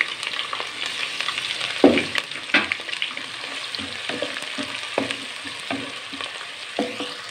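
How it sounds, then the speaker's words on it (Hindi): Finely chopped onions frying and sizzling in a pan while being browned for a creamy daal mash, with a steady crackling hiss broken by louder stirring scrapes and clatters throughout. "प्याज को हम लाइट ब्राउन करेंगे इंशाल्लाह।"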